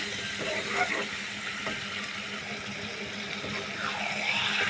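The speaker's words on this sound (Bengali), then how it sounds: "এখন আমি দিয়ে দেবো যে মাংসটা আমি ধুয়ে রাখছিলাম ওইটা হচ্ছে এখন দিয়ে দেবো একদম ভালো করে নাড়াচাড়া করতে হবে" Beef frying in hot oil with spices in a home kitchen, a constant loud sizzle broken by scraping stirring strokes as the meat is turned.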